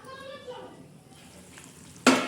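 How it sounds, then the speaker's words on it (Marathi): Usal curry cooking in a pan, giving a low steady sizzle and bubbling that swells into a sudden loud hiss near the end. "उसळ शिजत आहे बघा"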